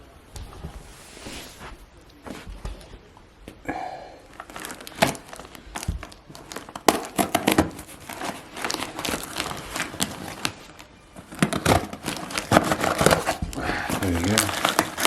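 A cardboard package is opened indoors with repeated crinkling, tearing and rustling bursts, fairly close and uneven in rhythm, while a dog moves about nearby.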